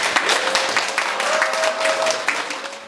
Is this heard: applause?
yes